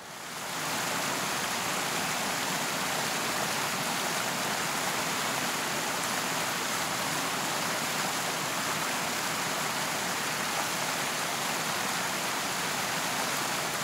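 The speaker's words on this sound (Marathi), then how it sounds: "पुढे जाऊ तसा पाण्याचा झुळझुळ आवाज ऐकू येऊ लागला" A stream near waterfalls in Anuskura Ghat rushes steadily, a dense, even hiss of flowing water that fills the scene from start to finish without any voices.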